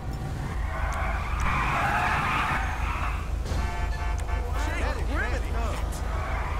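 Car in GTA V with the LSPDFR police mod skids and burns rubber, a harsh tire squeal rising over an engine roar, then wavering squeal tones near the end, with a voice talking over it.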